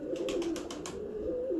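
Pigeons coo in a steady run of about six soft, throaty calls, close by, with a low murmur continuing underneath.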